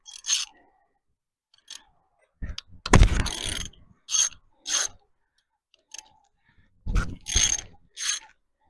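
A ratchet works small bolts loose on a Chevy small block engine, giving several close, crisp bursts of rapid clicking separated by pauses, with metallic scrapes and a heavier clatter midway.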